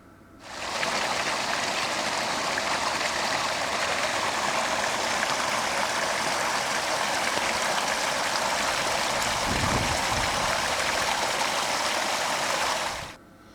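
An open stream runs past a residential street, carrying drain water from concrete pipes. Its steady, dense rush of flowing water holds an even level throughout, with a brief lower thump near the end and no voices.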